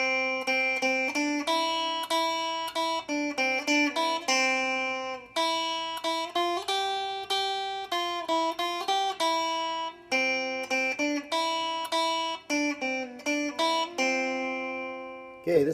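Itsy Bitsy Spider melody picked note by note on guitar, a steady stream of clear plucked tones with brief gaps between phrases, moderately loud and close with no talking.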